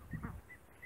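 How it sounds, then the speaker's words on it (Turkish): Ducks in a village yard give a few short, nasal honking quacks, close by, in a brief burst with quiet gaps between. "Gel ördekleri bir yakala gel."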